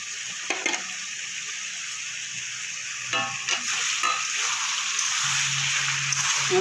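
Ridge gourd and potato frying with spices in a pan, a loud, close, continuous sizzle with a few scrapes of stirring, no voices.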